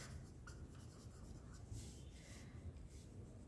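A pen scratches steadily across paper in a continuous, close rub as a question is written out by hand, with no one talking.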